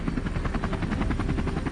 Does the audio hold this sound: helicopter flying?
yes